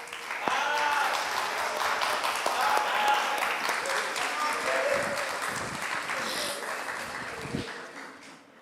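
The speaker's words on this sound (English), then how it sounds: "So they should be clapping." An audience claps at a banking and finance ethics challenge, a steady wash of applause that builds, holds, and fades near the end, with faint voices mixed underneath.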